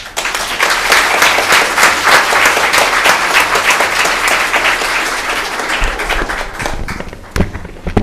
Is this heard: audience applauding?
yes